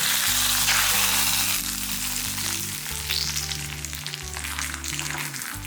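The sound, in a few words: tempering poured sizzling into buttermilk curry (mor kuzhambu)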